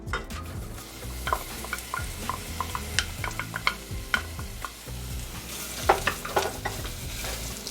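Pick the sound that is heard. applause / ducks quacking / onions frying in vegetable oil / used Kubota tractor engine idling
onions frying in vegetable oil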